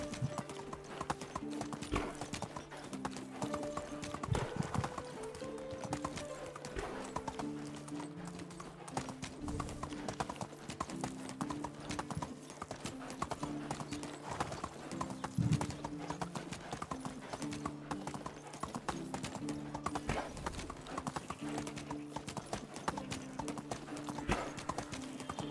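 Mule hooves clip-clop steadily in a video game as the animal is ridden, a continuous hoof rhythm over game music.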